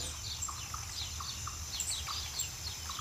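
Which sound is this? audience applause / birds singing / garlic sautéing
birds singing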